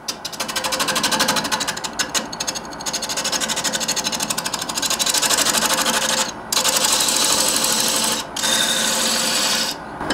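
A wood lathe spins a vase while a large round nose scraper cuts it, making a steady, loud, rasping whir with a few brief pauses when the tool lifts off.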